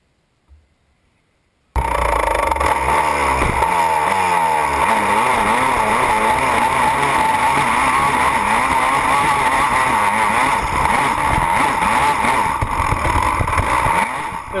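An ATV engine, such as a Banshee, 250R or YFZ, screams at high revs while climbing a steep Florida hill. It is loud, continuous and close, with wavering pitch sweeps as the throttle works, and starts abruptly after a brief quiet.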